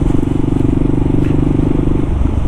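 A motorcycle engine runs steadily while riding through New York City streets, a loud, close, continuous throbbing rumble with rapid pulsing, no voices over it.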